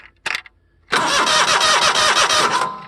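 Simplicity Legacy 20 lawn tractor engine cranking close by after a brief click, a loud rhythmic starter churn lasting under two seconds before it stops, with no talk.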